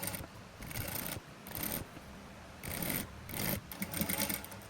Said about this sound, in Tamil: அப்படியே திருப்பி மெல்லமாக தைப்போம்.